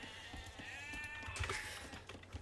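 A sheep bleats in a strategy video game, a short wavering call heard alone at low volume.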